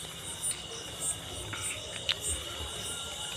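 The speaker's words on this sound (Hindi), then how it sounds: "सिर्फ झींगुर की आवाज़ आ रही है।" Crickets chirp in a forest at night, keeping up a dense, steady insect trill with a few brief high accents over soft background noise.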